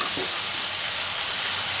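Green chilli and garlic paste sizzles and fries in a hot pan while being stirred, a continuous dense hiss with faint scraping, close and steady throughout.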